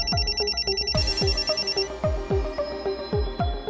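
Telephone ringtone playing a repeating pattern of bright electronic tones with a steady pulsing rhythm, close and clear, with no talking.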